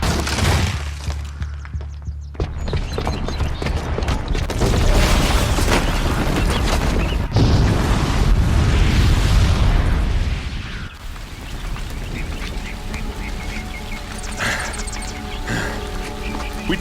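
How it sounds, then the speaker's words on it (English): A bomb explodes in the video game Horizon Zero Dawn, setting off a loud, sustained roaring blast with crumbling, shattering debris that fades into a lower rumble and scattered crackles. "the booby trap on the bomb downstairs is gonna get set off"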